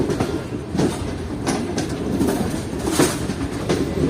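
A steady, close rolling rumble from the Karakoram Express on its night run from Karachi to Lahore, punctuated by irregular clickety-clack beats from the wheels on the rail joints.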